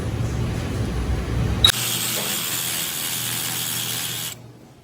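A 2.5 inch long 10-32 bolt is cut off for a Land Rover suspension repair. After a brief mechanical rattle, a steady, loud, harsh cutting whine runs for about three seconds, then stops abruptly.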